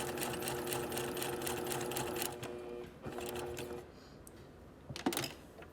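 A sewing machine runs a quarter-inch seam on a garment, a steady close whir for a few seconds, then slows and stops, followed by quiet handling sounds.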